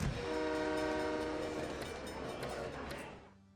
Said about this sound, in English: Train station.